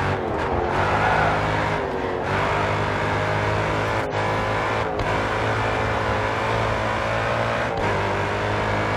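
Race car engine of a GT-R in the Grid 2 racing game, droning steadily and loud throughout with brief dips and surges as gears shift and revs change, no talking.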